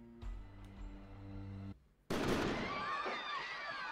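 A sudden loud gunshot effect in an audio drama cuts in after a brief silence, a sharp blast followed by a long ringing, echoing tail, preceded by low droning music.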